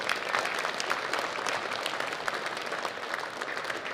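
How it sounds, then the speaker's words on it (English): A luncheon crowd at a racing tech inspection and safety expo gives a big round of applause for volunteers in orange vests, continuous, dense clapping from many hands at an even level throughout. "let's give them a big round of applause"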